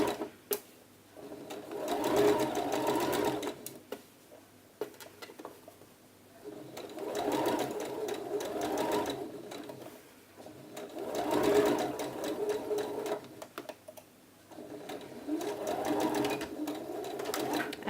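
A sewing machine stay-stitches along the curved back yoke of a blouse, running in several long stitching bursts separated by short pauses, close and steady.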